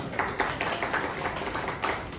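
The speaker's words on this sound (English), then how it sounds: "Give yourselves a round of applause." A class in a Hebrew lesson claps for itself, a short, fairly loud run of overlapping hand claps from a small group, steady for a couple of seconds with no speech.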